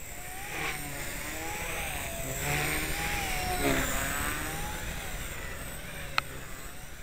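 A 130x RC helicopter with prototype KBDD main blades and a KB motor on 2S power spins up, giving a steady high whine with pitch rising and falling as the blades change pitch, at moderate distance.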